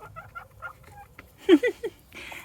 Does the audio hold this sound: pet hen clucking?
yes